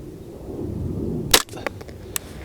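A single sharp crack from a Ruger 10/22 rifle at a target range, then a few fainter clicks and a small metallic tap in the otherwise quiet air that follows.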